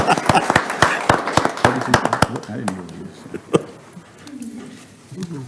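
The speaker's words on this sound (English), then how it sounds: "You want to stand up so we can clap for you?" Applause for lab personnel at a municipal sanitary district meeting, a quick burst of hand claps in a room that fades after a couple of seconds, followed by someone speaking.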